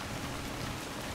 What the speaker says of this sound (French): Il s'arrête jamais de pleuvoir